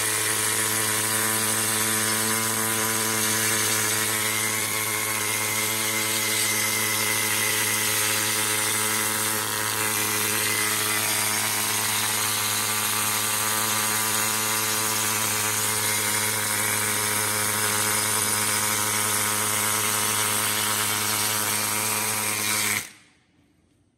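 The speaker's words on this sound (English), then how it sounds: "Now I'm grinding all the old welds off, getting it ready." An electric grinder strips old welds off a semi trailer skid plate. A loud, sustained whine with a steady droning hum carries on unbroken for about twenty-three seconds, then cuts off abruptly.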